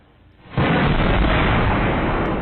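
An explosion caught on a security camera near a trash dump hits as a sudden deep boom. A sustained, loud, distorted roar follows and fills the rest of the moment with no voices.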